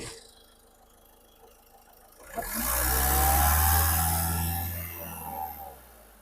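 A 2017 Ford EcoSport's engine idles quietly, then revs hard with the accelerator, holding a loud, steady roar for a few seconds before easing back down.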